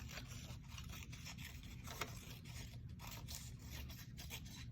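Scissors snip and scrape steadily through paper while a tree shape is cut out, a quiet continuous rasping with rhythmic blade strokes, close and alone.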